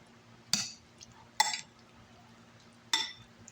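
A utensil clinks against a bowl three times while melting cheese is stirred into very hot, freshly drained pasta, with sharp isolated clinks and quiet gaps between.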